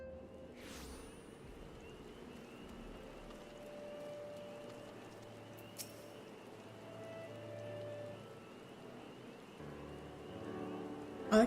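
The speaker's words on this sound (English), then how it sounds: "I like how it's even raining in like the little cutscene thingy" Rain falls in a Final Fantasy XIV: Heavensward cutscene as a soft, faint, continuous patter and hiss that holds steady, with no speech over it.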